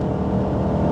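A VR5 engine revs at high RPM in second gear: a steady, loud, buzzing drone without pause for about a second, heard from inside the car.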